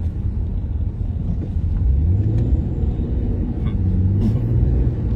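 Chevrolet Camaro RS engine rumbles low and loud with a throttle blip, a close, continuous deep growl that swells slightly partway through.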